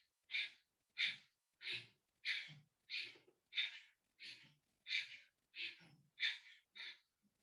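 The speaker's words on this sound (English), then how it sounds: "Both sides breathing out all the time." Rhythmic pranayama exhalations from a group of people, about eleven sharp, forceful breaths out at a steady pace of roughly one per second, close and clear with no talking.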